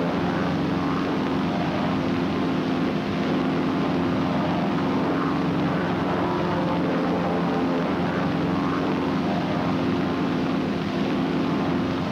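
Steady droning hum of several 1950s US Navy propeller airplanes flying overhead in formation, a constant engine roar with no breaks.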